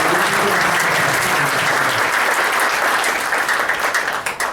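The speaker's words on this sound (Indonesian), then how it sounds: "Boleh tepuk tangan teman-teman." Loud, steady applause from an audience at a talk, many people clapping together in a dense roar that tapers off near the end.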